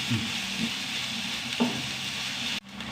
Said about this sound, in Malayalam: നന്നായി വഴറ്റിയെടുക്കട്ടെ